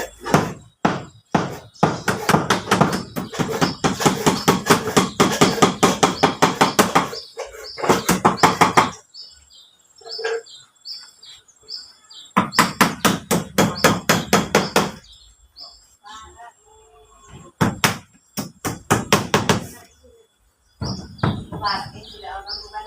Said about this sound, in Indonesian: Nek lagi dipaku